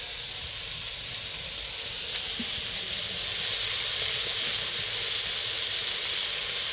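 Greens added to a hot pan with chicken for a Bengali dish, giving a steady, loud hissing sizzle that swells and stays strong throughout, with no voices.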